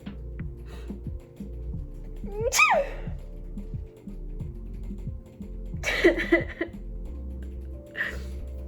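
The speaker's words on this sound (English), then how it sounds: "I need to sneeze." A sudden allergy sneeze bursts out over a low background hum, followed by a couple of sharp sniffs or gasps a few seconds later.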